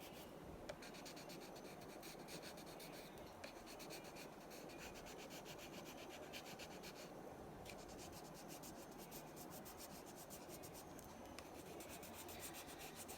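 Stabilo Woody pencil rubbing and scratching across paper in continuous quiet strokes, close and soft with no voices.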